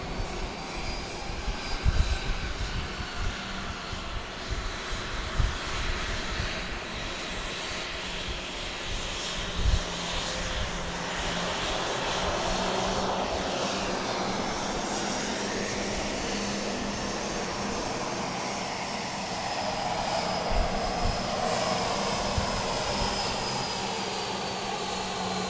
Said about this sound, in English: You probably can hear Southwest Flight